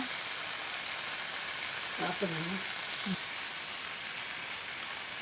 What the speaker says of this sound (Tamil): இப்போ வந்து மிளகு சீரகம் தக்காளியெல்லாம் நல்லா வதங்கியாச்சு